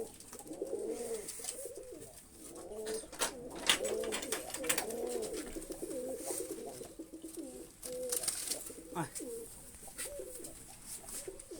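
Rajshahi Giribaz pigeons in a loft coo softly and repeatedly, overlapping, with faint scattered pecking taps. Quiet and close, with no talking.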